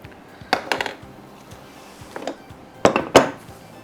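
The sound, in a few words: spoon pressing down biscuit crumb pie base in dish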